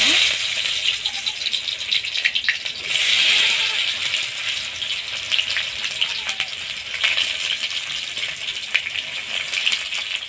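Onions frying in oil with cumin seeds in a home kitchen, a continuous loud sizzle and crackle up close with scattered rattles and stirring noises over ten seconds.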